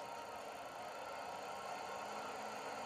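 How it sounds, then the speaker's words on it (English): A tractor engine runs steadily while cutting hay in a field, a continuous low mechanical drone with faint vibration, heard at moderate distance with no talk. "Yeah, tractor."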